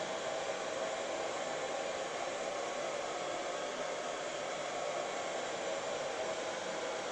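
A hair dryer blowing hot air to dry glue under covering film on a large-scale RC model, a steady, loud whooshing roar that runs unbroken and alone the whole time.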